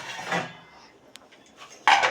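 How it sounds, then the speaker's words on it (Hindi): Metal pots and utensils clank in a home kitchen as rice is set up in a pressure cooker, scattered close knocks and scrapes with a louder clatter at the end. "चलते हैं चावल चढ़ाने।"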